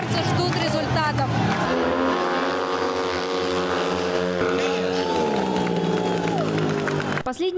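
Racing engines roar loudly through the deciding final heat of a European championship at a stadium, with rising and falling tones as the machines pass, over a constant crowd background.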